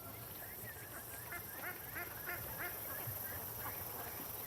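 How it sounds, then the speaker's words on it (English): Ducks quack in repeated bursts from a large flock gathered on the water below, mixed with honking calls, over steady wind noise that persists throughout. "There's probably 500 ducks down here."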